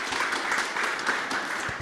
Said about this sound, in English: Congratulations and applause to Raresh.